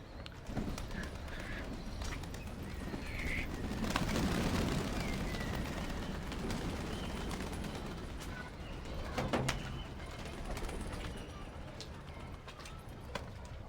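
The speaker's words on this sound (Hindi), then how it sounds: "बारिश में मैंने कबूतर खोले हुए।" Pigeons outdoors in rain in Karachi, with soft intermittent bird calls and coos over a steady wash of rainfall, some low rustling and a brief louder burst near the middle.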